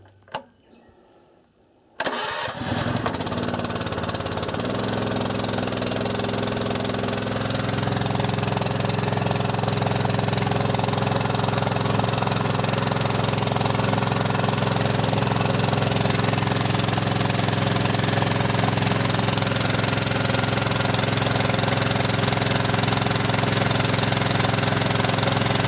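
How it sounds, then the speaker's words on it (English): A bushfire pump's small engine starts after a few quiet seconds, then runs loud and steady at a constant close drone for the rest of the clip. "So now when I start the pump, I'll just bleed the pump."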